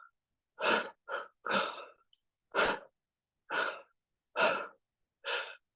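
Several people breathe together as a group exercise, making seven loud, rhythmic breathy bursts of exhaled air separated by short pauses, with no talking.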